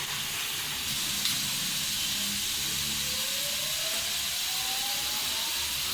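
Steady loud hiss of potato fries frying in hot oil, a continuous broadband sizzle that stays even throughout with no talking.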